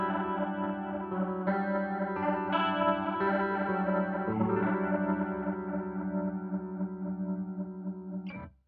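Guitar through an analog true-bypass chorus pedal set to a swirly, almost rotary-speaker effect: several held chords and picked notes shimmer and swirl, played up close with no talking, before a brief final strum cuts off.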